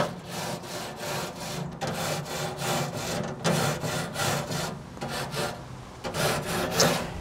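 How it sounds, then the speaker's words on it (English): A stiff nylon brush scrubs the grates of a Char-Griller smoker in rhythmic back-and-forth strokes, steady and close, with no talking. "And I'm just gonna get in here with that nylon brush."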